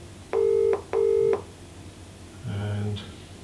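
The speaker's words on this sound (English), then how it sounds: "it's ringing." An outgoing v-connect video call rings with two matched electronic beeps in quick succession, followed by a lower connection chime as the call picks up, in a quiet room.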